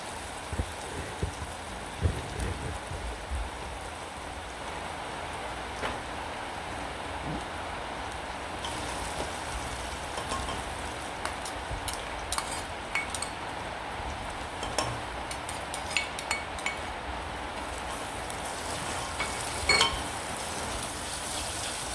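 Ginger, chillies and garlic sizzle in hot oil with onions in a steady, faint, rain-like crackle, with scattered small pops and ticks over the whole stretch.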